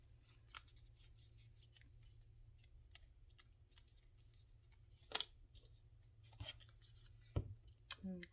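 Scissors snip through paper scraps in a few sharp, separate cuts near the end, close and crisp against a quiet room with light handling rustles.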